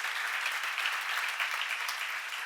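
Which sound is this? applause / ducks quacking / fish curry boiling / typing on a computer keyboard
applause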